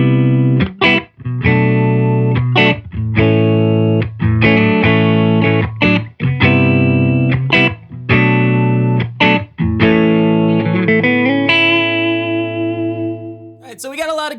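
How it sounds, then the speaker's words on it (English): An electric guitar, a Walsh Guitars Yada, played through a Silktone amp, strums a run of chords and notes with steady rhythm, ending on a long ringing chord before a sharp final noise. "Silktone amp sounds like this."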